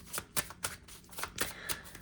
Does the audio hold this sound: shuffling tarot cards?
yes